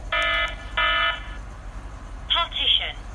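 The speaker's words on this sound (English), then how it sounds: "You can see now the alarm has triggered again." Hikvision wireless intrusion alarm system triggering: two loud, harmonic electronic beeps in quick succession, followed by shorter chirping tones, with a voice talking nearby.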